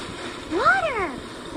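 A splash of water in a video game after a blue stone is broken, one bright swooping splash with bubbly tonal sweeps rising and falling near the middle, followed by a smaller splash at the end.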